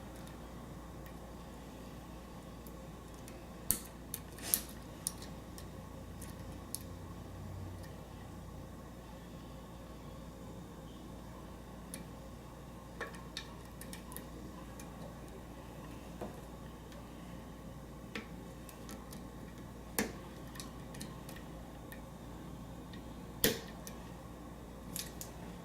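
Faint, sparse clicks of lock pins setting as a pick works a lock, isolated ticks scattered over a quiet hiss at irregular intervals, very close and without talk.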